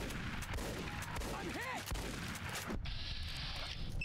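Shotgun blasts during a firefight in Fallout: New Vegas, with a bounties mod loaded, come as dense, loud bursts of gunfire that layer over a constant game backdrop.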